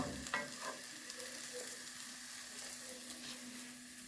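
Onions sizzle gently in a pan for a lasagne sauce, a quiet, steady frying hiss with faint stirring scrapes near the start and no voices.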